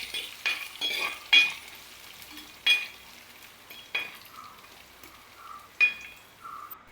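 Coconut pieces fry with ginger and garlic in hot oil, a soft sizzle broken by several sharp metal spoon scrapes and clinks against the pan at uneven intervals.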